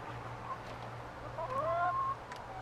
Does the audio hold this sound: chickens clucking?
yes